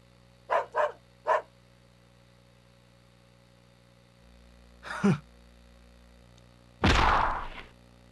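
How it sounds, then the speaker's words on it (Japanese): Hound barking in the PS2 game Jojo's Bizarre Adventure: Phantom Blood: three quick, clipped barks early on, a softer yelp near the middle, then one loud, longer snarling bark close to the end. "僕の愛犬でね、利口な猟犬なんだ。"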